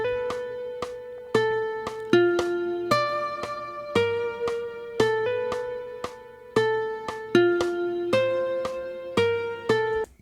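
A haunting guitar melody built on the Viennese trichord, plucked single notes and dyads rising and falling in a slow, steady line, each note ringing and decaying, played alone without talk.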